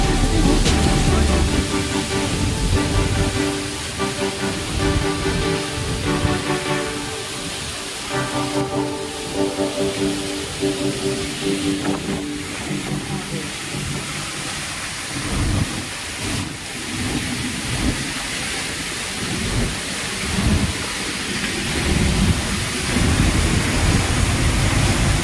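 Godas waterfall in Nuapada, Odisha, rushing on in a loud, steady broadband roar, with bursts of heavier splashing. It fills the whole stretch, and no clear talk rises above it.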